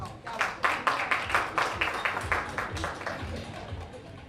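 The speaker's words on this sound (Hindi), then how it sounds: "जोरदार ताली काजल जी के लिए" Audience claps for actress Kajal at a Bhojpuri OTT platform launch event, loud rhythmic clapping close by with a talking voice over it.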